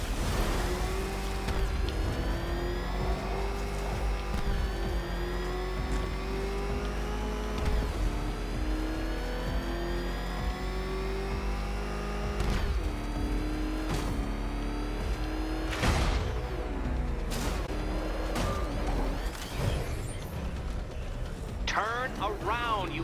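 The Batmobile engine in the video game Batman: Arkham Knight revs loudly and steadily, its pitch rising and falling as it accelerates, with brief bursts near the end and a voice speaking over it.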